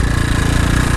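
A Mikilon 250 supermoto engine idles with a steady, loud mechanical clatter, a continuous rapid knocking tick from the single-cylinder engine, close up and with no voices.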